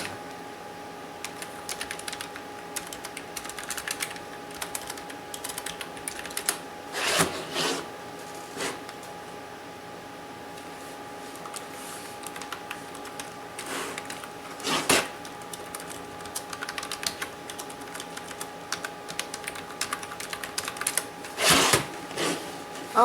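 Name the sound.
typing on a computer keyboard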